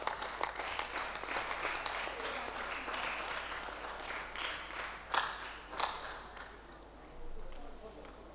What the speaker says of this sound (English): Quadri Azimat, please come for a round of applause for her.